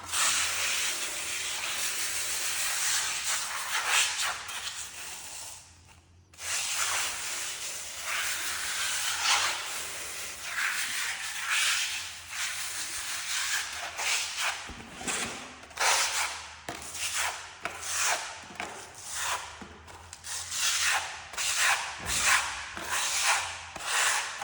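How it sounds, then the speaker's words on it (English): An ergonomic trowel spreads runny microcement over bathroom tiles, making close, continuous scraping and rubbing strokes with a brief pause partway through, then shorter rhythmic passes, with no talking. "we'll demonstrate the trowel movement using our ergonomic trowel"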